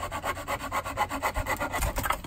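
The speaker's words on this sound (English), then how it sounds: "use my crosscut saw to cut off a piece of staghorn sumac" A crosscut saw cuts through a piece of staghorn sumac wood outdoors, making a steady, close rhythm of rasping strokes, roughly ten back-and-forth pulls at an even pace with no talk.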